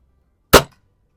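A single sharp shot from a vintage Remington Vantage 1200 .177 break-barrel air rifle by Crosman on an outdoor range, a crisp isolated crack with a quick decay and quiet surroundings.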